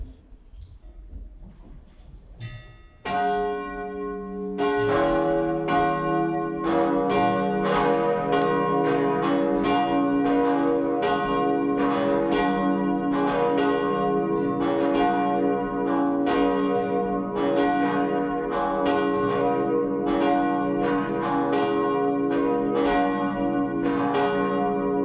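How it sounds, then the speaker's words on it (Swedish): Cathedral church bells peal continuously in a rolling, overlapping rhythm, loud and resonant after a quiet start, after a Swedish Sunday high mass. "Låt oss nu lyssna till klockringningen."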